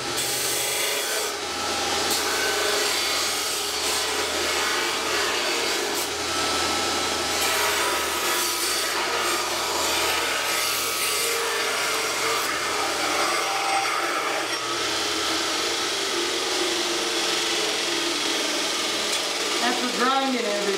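Grinding a stack of high carbon steel and nickel for Damascus produces a continuous loud, rough abrasive roar that holds steady for about twenty seconds, close to the listener.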